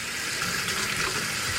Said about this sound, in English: I will use the hottest water.